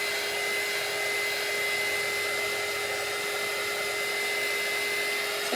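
A hair dryer runs continuously at close range, drying a printed T-shirt. It holds a steady, loud, even whoosh of blowing air with a faint constant whine through the whole stretch and no breaks.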